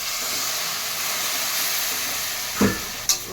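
A hot pan of masoor dal chachchari hisses and steams in a steady broadband rush as a little water goes in, with a couple of sharp knocks from the pan near the end.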